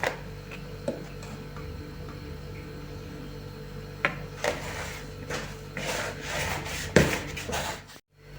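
Soft, irregular rubbing and pressing sounds of cottage-cheese dough being kneaded by hand, with occasional light knocks, close by and fairly quiet.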